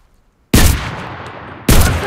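Two loud, close gunshot bursts from an MKB-42 H rifle in the video game Enlisted, fired at friendly German soldiers; a sharp onset with a long ringing tail, then a second burst begins after a short gap.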